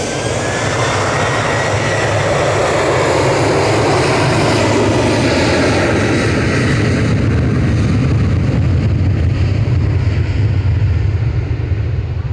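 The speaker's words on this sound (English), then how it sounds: "That was flight 2583 departing, a 737-800." A Ryanair Boeing 737-800 jet departs Manchester Airport, its loud broadband engine roar sustained and steady with a faint rising whine early on, the sound thinning slightly as the aircraft moves away.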